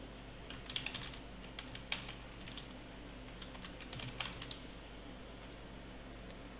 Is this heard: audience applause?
no